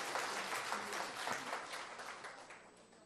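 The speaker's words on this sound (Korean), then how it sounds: "하나님 앞에 영광의 박수를 한번" Church congregation applauding during a Christmas service after an infant baptism, a dense wash of many hands clapping, steady and fairly close, fading slightly toward the end.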